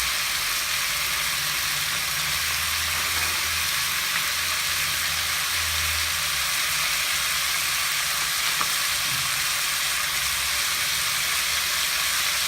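Eggplant (brinjal) frying in a pan while making sambar, a steady loud sizzle and crackle of oil that hisses without pause, with no talking.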